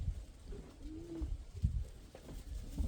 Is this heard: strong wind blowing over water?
no